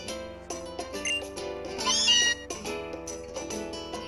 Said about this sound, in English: Shoutouts to Meowth for being such a cat.